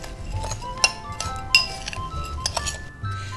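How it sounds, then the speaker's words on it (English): A utensil stirs sour cream coffee cake ingredients in a bowl, producing light glassy clinks and scrapes in an uneven rhythm, close and fairly quiet, with no voices. "put all these in a bowl and give them a stir"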